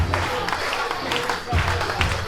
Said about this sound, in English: Positive reaction from the crowd here.